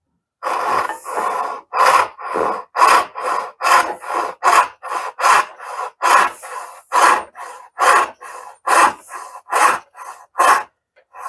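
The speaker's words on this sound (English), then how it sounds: "The next saw up, I'll do the saw I sharpened." Hand-sharpened dovetail saw cutting wood, about twenty crisp rasping strokes in a steady back-and-forth rhythm, close and clear with short gaps between strokes.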